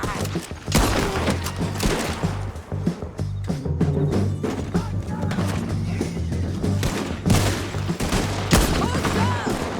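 Rapid bursts of gunfire and repeated shots ring out in a Red Dead Redemption 2 shootout, loud and close, with scattered thuds and a voice talking in between.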